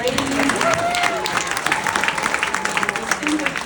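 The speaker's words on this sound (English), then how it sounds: "One more round of applause, please," Audience applause rings out at an awards ceremony honoring distinguished women, a steady wash of clapping that holds for a few seconds with a voice carrying over it.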